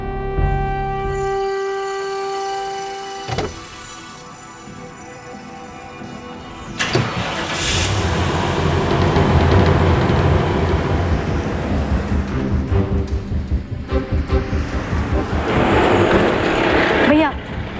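A car engine turns over and catches, then runs and pulls away. The loud rumble and rising revs continue to the end, with a few clunks along the way and voices talking in the background.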